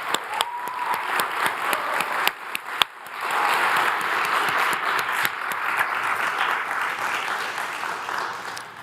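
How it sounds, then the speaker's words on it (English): At a stock exchange listing ceremony, a crowd gives a round of applause for a company team. A few scattered claps open it, then the clapping swells into a full, sustained ovation. "have a round of applause for the team at Marti and Galata"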